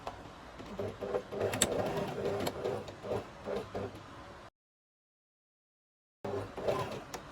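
A sewing machine joining pocket pieces to a skirt, running steadily with a soft rhythmic clatter, stopping abruptly into silence, then starting again briefly.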